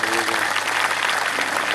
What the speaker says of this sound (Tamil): அவரை வரவேற்கும் விதமாக நல்ல பலமாக கரகோஷம் எழுப்பி உற்சாகப்படுத்துகிறோம்.